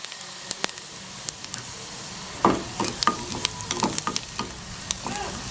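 Cumin seeds crackling in hot oil for a tempering, a busy sizzle with sharp popping ticks that grows denser partway through, close and without voices.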